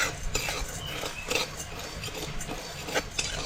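Chana dal and urad dal rattle and scrape as they are stirred and roasted in a hot kadhai, with soft repeated clinks of a spoon against the metal and a faint dry sizzle.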